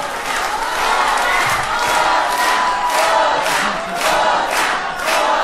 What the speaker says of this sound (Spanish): Un aplauso para los músicos.